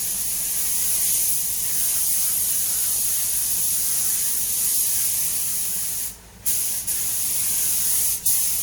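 Spray paint applied in even coats to rusty wheel arches on a Mk7 Ford Fiesta, a continuous close hissing spray with a couple of brief breaks near the end, no talk.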